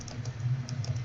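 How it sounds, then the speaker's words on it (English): Typing on a computer keyboard during a podcast recording, soft scattered key clicks over a steady low hum, faint and in the background. "I don't know if anyone can hear me typing"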